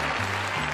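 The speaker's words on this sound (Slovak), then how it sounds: "Potlesk, prosím." Audience applause at an evening festival ceremony crowning a queen: a brief, steady burst of clapping over a low tonal hum.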